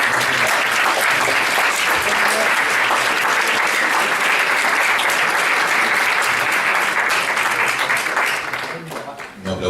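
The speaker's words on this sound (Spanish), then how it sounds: "No aplaudió solamente el público argentino, eso está muy bien." A forum audience applauds loudly and continuously, a dense wash of clapping that holds steady for most of the stretch before thinning out at the very end.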